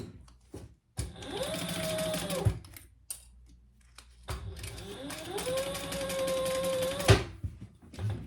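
A sewing machine stitching around a fabric wristlet runs in two long bursts of fast whirring, mechanical stitching, close and clear, separated by short pauses with small clicks and handling noises.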